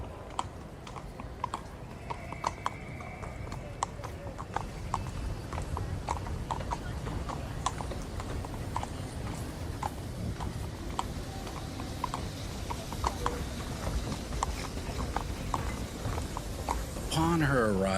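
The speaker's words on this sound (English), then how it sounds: "she could hear the clatter of hooves on cobblestones" Hooves of a horse pulling a horse-drawn tram clatter steadily over cobblestones in a busy street scene, a continuous sharp clip-clop rhythm close by over low rumbling ambience, with faint voices mixed in.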